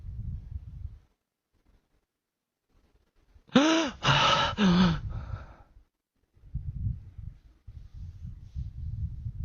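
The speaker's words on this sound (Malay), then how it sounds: "Tarik nafas hembus, guys" A person draws a deep breath in and lets it out in a few strong, close gasping pulls and exhales, set between stretches of quiet and low rumbling room noise.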